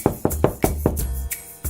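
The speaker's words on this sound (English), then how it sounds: "The hungry wolf knocked on the door." Knocking on a wooden door: a steady series of about eight firm, close raps, loud and alone.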